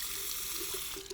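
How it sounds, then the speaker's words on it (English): Tap water runs steadily into a sink as a Leaf hybrid cartridge safety razor is rinsed under it, a close, hissing stream with faint splashes and no talking. "Now I am doing a lot of rinsing."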